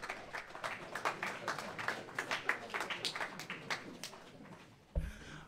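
Scattered applause from a ceremony audience, a smattering of individual hand claps at moderate volume that thins out over a few seconds, followed by a brief bump of room noise near the end.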